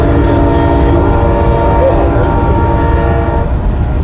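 Loud freight train with extra long boxcars rolling past close by, a steady heavy rumble of wheels and cars with a horn sounding over it, with no talk.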